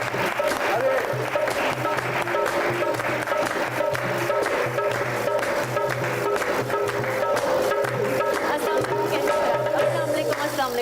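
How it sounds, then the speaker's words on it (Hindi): Studio audience applause on a comedy talk show, steady and continuous for about eleven seconds, with tonal music and voices running underneath. "तालियां।"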